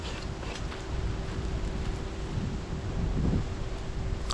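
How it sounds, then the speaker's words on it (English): Wind blowing outdoors in a garden, heard as a continuous low buffeting rumble against the microphone that swells slightly toward the end, with no speech. "it's kind of windy out here"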